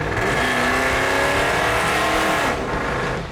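An old Mopar V8 engine revs hard and very loud, with a sustained roar close by that starts to drop away near the end.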